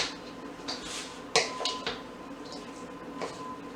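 Cabbage casserole mixture being stirred by hand in a bowl in a home kitchen, with soft squelching and light clinks against the bowl, close and moderately quiet, a few sharper knocks scattered through.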